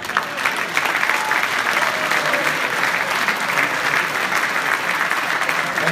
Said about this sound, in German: Erstmal Ihr Applaus für meine Boxer, bitte.